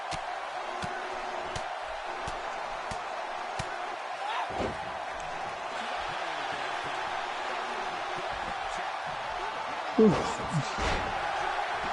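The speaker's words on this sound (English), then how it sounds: "I hear a car door." A car door slams once, a short dull thud some distance away near the end. Before it comes a quiet indoor stretch with faint ticks and light knocks, and someone talks.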